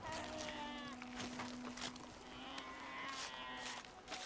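Sheep bleats rise and fall over a steady hum and game background noise, several wavering calls scattered through the stretch.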